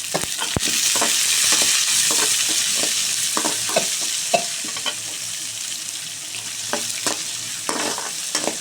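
Chopped onions sauté in a pan with popped mustard seeds, a loud steady sizzle overlaid by frequent short scraping stir strokes and occasional light taps, close and with no talking.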